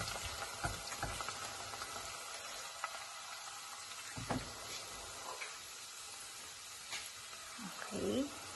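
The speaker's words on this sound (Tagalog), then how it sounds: "Haluin po." Ginataang mackerel being stirred in a pan, a soft steady sizzle with scraping stir strokes and brief clinks, a louder scrape near the end.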